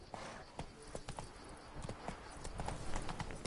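Hooves of Roach, Geralt's horse in the video game The Witcher 3: Wild Hunt, clip-clop in a steady trotting rhythm, faint and continuous, with no talking.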